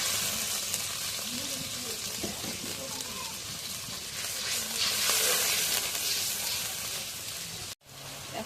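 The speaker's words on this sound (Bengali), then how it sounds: "এখন জিরা বাটা রসুন বাটা দিয়ে দিই" Cumin paste and garlic paste sizzle and spit in hot oil, a steady broadband frying hiss with faint stirring scrapes, close and continuous before a brief cut near the end.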